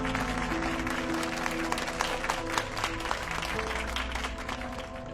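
An audience claps at an event, with dense sustained applause from a crowd running throughout, heard at moderate loudness with a low background hum.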